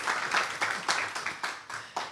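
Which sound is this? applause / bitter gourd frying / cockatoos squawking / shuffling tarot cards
applause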